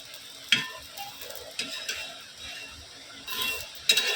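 Potatoes go into a pan with a soft, low sizzle, while a spoon scrapes and clinks against the pan in scattered stirring strokes, quiet and close.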